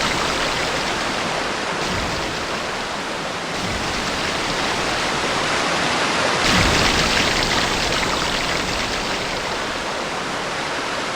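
Steady rushing water on video game water slides fills the whole stretch, a continuous broadband wash like a flume or waterfall, with a few brief surges in intensity.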